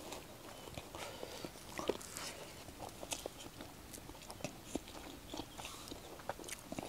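Close, quiet chewing of chicken biryani cooked in bamboo, soft irregular crunching and mouth sounds with no talking.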